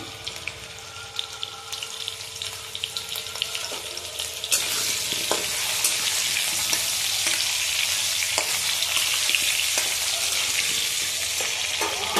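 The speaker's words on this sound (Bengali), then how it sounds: "এবারে এই আলুগুলো ভেজে নেব" Potatoes dusted with turmeric frying in hot oil in a wok give a steady hiss that swells louder partway through, with occasional scrapes and stirring clicks and no talking.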